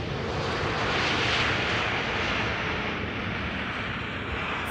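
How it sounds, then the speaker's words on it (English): An Emirates Boeing 777-300 arriving on the central runway at Amsterdam Schiphol, its engines making a loud, steady, broadband roar that holds constant throughout with no talk. "behind it, to the central runway, we have Emirates flight 145. That's a 777-300."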